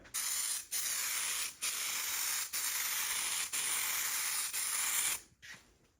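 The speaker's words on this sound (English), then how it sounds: "we're just going to mist it on the whole car, and that'll give us our guide coat" A spray gun mists a guide coat over a car in a home garage, steady loud hissing bursts broken by brief pauses between passes, ending in a softer short spray.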